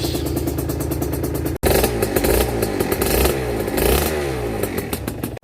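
An Aprilia RS125 two-stroke motorcycle engine runs loud and close, with a buzzing, rasping idle that revs up and down. The sound cuts out briefly near the start, then resumes.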